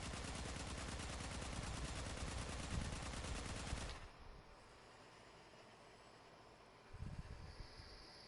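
Rapid automatic weapon fire in the sci-fi shooter Warframe, a steady fast stream of close shots for about four seconds, then a quiet gap and a short second burst.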